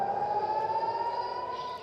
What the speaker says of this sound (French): ce déluge de feu déclenche immédiatement les sirènes